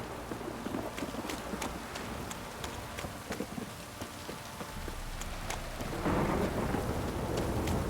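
Rain falling steadily with rolling thunder in The Witcher 3, a constant wet patter broken by sharp drop ticks, with a heavier rumbling swell of storm near the end.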